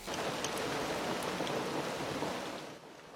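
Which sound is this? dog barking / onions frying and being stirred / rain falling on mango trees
rain falling on mango trees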